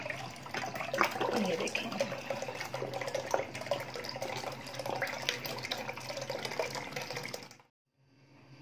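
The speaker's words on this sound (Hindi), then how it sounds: "ये एक्सेस वाटर इसका निकल जाएगा" Excess water trickles and splashes out of homemade desi ghee into a glass bowl, a steady liquid pour running close by under a woman's speech before stopping abruptly near the end.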